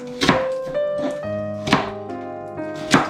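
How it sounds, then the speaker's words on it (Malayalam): Carrots are cut with a knife on a board in a home kitchen: four separate, close thuds spaced about a second apart, with a faint clatter between strokes and no speech. "ക്യാരറ്റ് ഇതുപോലെ കട്ട് ചെയ്ത് ഇതിൻ്റെ മുകളിൽ ഇങ്ങനെ ഇടുന്നു."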